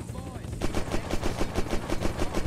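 Rapid automatic gunfire in the video game Unturned during a sky base raid, loud repeated shots in a steady fast rhythm running through most of the clip after a brief lead-in.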